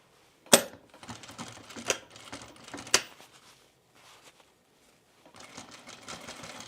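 A sewing machine stitches a quilted Amelia bomber jacket in short irregular bursts, sharp clicks and clacks breaking up quiet gaps before a longer steady run at the end.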